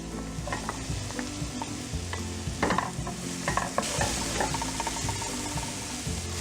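Ginger garlic and onions sizzle and crackle in a pan as they are stirred, a steady close frying hiss with repeated spatula clatters and scrapes, louder bursts midway, for a kale saag dish.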